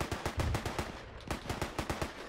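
Rapid rifle gunfire in the Arma 3 military game, a dense run of close, loud shots in quick bursts with a short pause in the middle, then more shots, with no voices.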